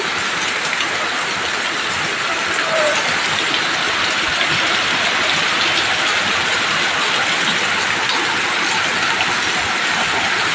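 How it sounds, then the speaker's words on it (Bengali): Heavy rain falls outdoors in a constant, loud, broadband roar that holds steady for the full length, with no voices over it. "বন্ধুরা দেখো জোর বৃষ্টি হয়ে গেছে"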